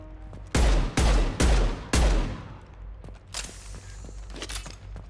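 Four heavy, booming gunshots ring out close and loud in the video game Mass Effect 2, each decaying with a long tail, followed by quieter scattered shots and combat noise.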